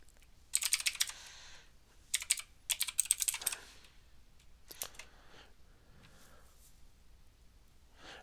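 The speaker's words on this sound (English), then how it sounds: "you're going to type add -migration" Bursts of fast, close computer keyboard typing as an add-migration command is entered in a package manager console, clattering runs broken by short pauses, then a few scattered keystrokes trailing off.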